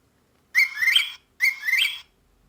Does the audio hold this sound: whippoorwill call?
yes